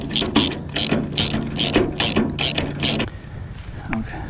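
A ratchet tightens a 17 mm castle nut while assembling a giant covered red chuck wagon, giving about eight quick, close, evenly paced bursts of clicking before stopping.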